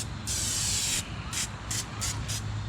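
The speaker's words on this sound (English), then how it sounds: "We'll spray the sides." An aerosol spray can hisses out in one long, loud burst and then four short sprays, close up and outdoors in the woods beside a campfire, over a faint background hum.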